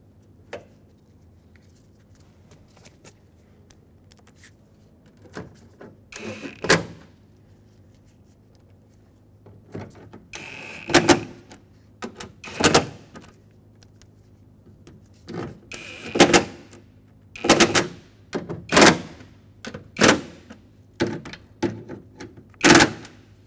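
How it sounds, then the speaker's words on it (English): Mounting screws are driven into a speaker in a 2000-2005 Ford Excursion door in a series of sharp, close mechanical bursts with quiet pauses between them. "Start in the 4 mounting screws that hold it on."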